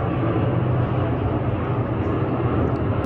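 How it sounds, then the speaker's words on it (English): A fixed-wing airplane passes over New York on a warm day, a loud, broad, steady engine roar that fills the clip. "Look at this airplane."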